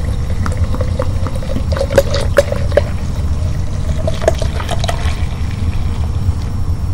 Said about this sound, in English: Just a little bit of water for this artificial plant.